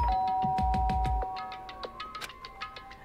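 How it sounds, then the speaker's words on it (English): A video game doorbell in Danganronpa rings with a bright, resonant electronic chime, a few quick tones that ring out and then fade over light ticking background sounds. "Byakuya stood in front of her door, not making a sound, and pressed the doorbell."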